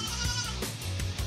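A goat bleats in one sustained, nasal call that lasts just over a second, loud and close. The bleat comes from a goat pen where a female goat is in heat.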